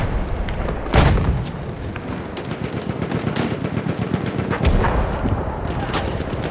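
Bombs explode across the battlefield in Battlefield 1 multiplayer, with two heavy booms standing out amid continuous rumbling gunfire and artillery, loud and close throughout.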